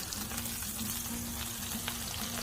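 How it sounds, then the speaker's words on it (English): Pieces of chicken fried turkey frying on a Blackstone griddle, giving a steady close sizzle and crackle with no talk. "We'll let these fry up."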